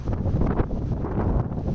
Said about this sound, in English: The windy conditions along the Gaviota coast have refused to calm down for the third day